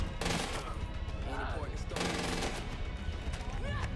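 Gunshots in the video game Far Cry 5, a dense run of loud shots with broad bursts near the start and around the two-second mark, with voices talking faintly underneath.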